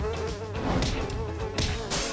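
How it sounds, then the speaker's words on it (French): A housefly buzzes close by in short bursts and swoops, its whine rising and falling between a few soft thuds. "Cette stupide mouche ne la laisse pas se concentrer sur son art."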